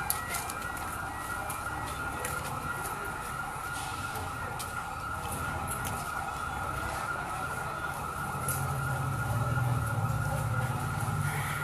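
An ambulance siren wails steadily in the distance over constant traffic rumble in downtown Beirut after an explosion, its tone holding on and on while the ambulance's engine noise swells toward the end as it drives past.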